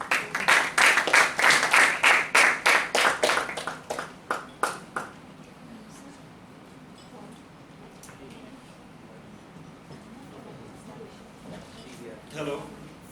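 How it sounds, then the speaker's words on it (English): A round of applause at a Toastmasters meeting, loud and dense at first, then thinning into scattered claps before fading into quiet room noise. "Please give him a round of applause."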